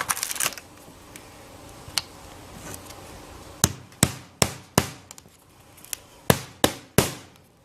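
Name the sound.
hammer nailing metal skylight flashing corners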